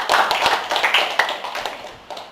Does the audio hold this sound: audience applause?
yes